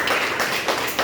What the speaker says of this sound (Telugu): సో గ్రేట్ క్లాప్స్ ఇవ్వండి.